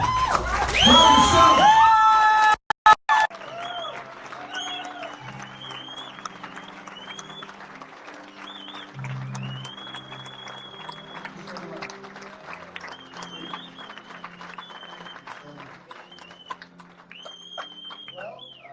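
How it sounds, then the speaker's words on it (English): A rally crowd in Las Vegas applauds and cheers, loud and close at first, then settles into sustained clapping with scattered whoops and shouts, and voices are heard among the noise. "please give me a round of applause"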